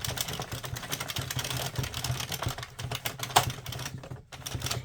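A hand-cranked yarn ball winder turning a hank into a cake, with steady rapid clicking from its row counter over the whirring wind, close and fairly loud, without speech.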